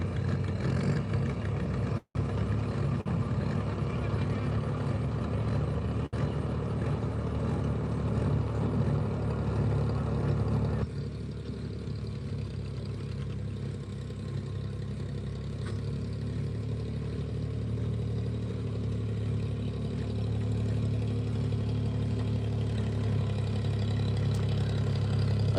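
John Deere 4010 tractor at a tractor pull, its engine running in a steady low clattering drone throughout, easing slightly in loudness partway and then holding steady.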